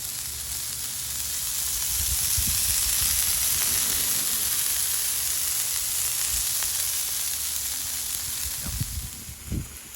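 Beef patties for chopped cheese sliders sear on a hot griddle, giving a steady, loud sizzle across the whole stretch, with a few low clanks and scrapes near the end.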